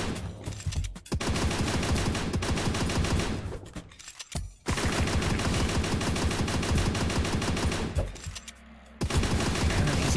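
Gunfire from a gun in the VR game MOAR Appeteaser: loud, dense rapid-fire bursts of shots that run continuously, broken by a few brief gaps.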